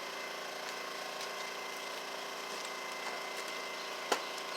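Engine oil drains from a Kawasaki FC150V engine into a bucket as a steady, faint hissing trickle that runs throughout, with one small knock near the end.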